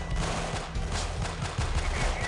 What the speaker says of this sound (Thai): ผมขอใช้แบบเซมิเนาะประหยัดกระสุน